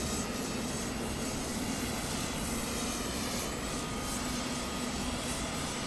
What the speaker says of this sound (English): Blades are moving.